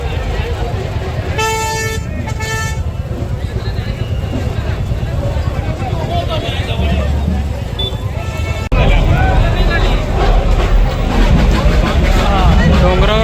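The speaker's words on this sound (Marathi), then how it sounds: "पूर्ण ट्रॉफिक जाम झालेली आहे फुल ट्रॅफिक जाम" Traffic jam at a village fair (jatra), heard from a motorbike: repeated loud vehicle horn toots early on over a constant road and crowd din, with people talking throughout.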